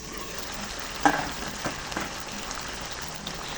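Pork curry with potatoes and carrots cooking in a pot, a steady close sizzle and bubble broken by a few sharp clinks and stirring knocks, with no talking.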